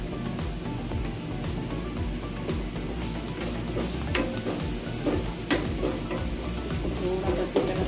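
Spices, garam masala, chilli and coriander powder, cooking with potatoes in a pan with little oil, a continuous dense sizzle with stirring scrapes beneath a low tonal background.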